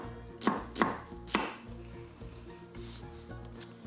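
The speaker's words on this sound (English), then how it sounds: "We're going to cut slices of our onion." Knife chopping onion slices on a board in a kitchen, with three crisp, close cuts early on and then softer, quieter slicing against a faint background hum of music or room tone.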